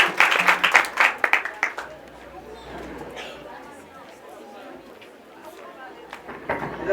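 Audience clapping inside a church during a Christmas Day service, a burst of applause at the start that fades into crowd chatter and murmuring, with talk over the top.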